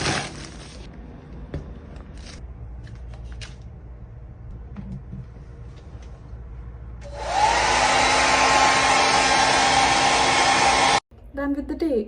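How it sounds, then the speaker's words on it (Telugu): A hair dryer switches on after a stretch of quiet handling noises, blowing with a loud, steady whooshing roar for about four seconds before cutting off sharply, followed by a brief rustle. "First thing is this hair dryer."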